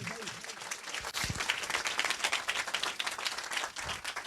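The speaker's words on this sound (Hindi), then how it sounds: "जोरदार ताली तो बजा दो भाई" A church congregation at a Sunday prayer service breaks into loud, sustained applause, many hands clapping densely and continuously throughout.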